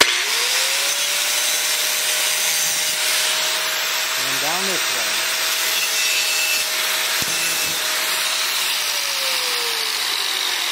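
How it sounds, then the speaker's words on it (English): A four-inch angle grinder runs steadily at close range as it takes the burr off an inside metal edge, its sustained whine shifting slightly in pitch as it bites and eases off. "every time I'm grinding, the sparks are going away from me"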